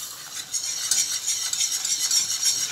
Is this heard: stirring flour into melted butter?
yes